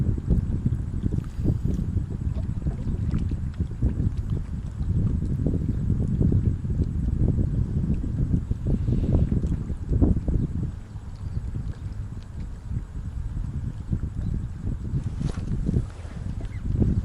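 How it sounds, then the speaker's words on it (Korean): Strong wind buffets an outdoor lakeside spot while fishing for crucian carp with long 21-foot rods in 3 m of water, a steady low rumbling roar with gusty swells and no speech. "지금 바람이 굉장히 셉니다"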